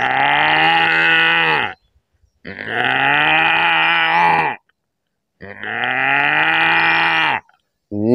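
A voice imitates a cow, giving three long, loud, low-pitched moos, each about two seconds, separated by brief pauses, close and without other sound.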